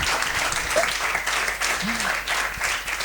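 Audience applause at a live comedy show, a dense steady wash of clapping filling the whole stretch, with a brief voice or whoop rising out of it near the middle.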